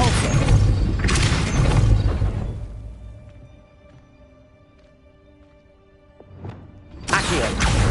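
Depulso spell cast in Hogwarts Legacy: loud, dense bursts of blasting force open and close the stretch, with a quieter humming, tonal lull in between and a sharp crack just before the final burst.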